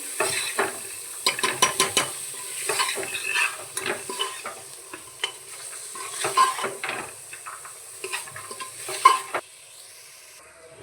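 Potatoes being stirred into a black chickpea curry in a pot, with repeated scraping and clinking spoon strokes over a steady sizzle, close and moderately loud, with no talking.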